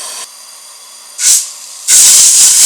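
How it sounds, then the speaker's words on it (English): Oil in a pan of browning ground beef on medium-high heat flares up, giving a short loud hiss followed by a sustained roaring whoosh of flame, close and alone. "Fill the pan and watch it flame."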